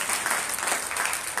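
A church congregation at a Sunday meeting clapping their hands together, a brief burst of dense, steady applause from many people at a moderate distance, with no voice over it.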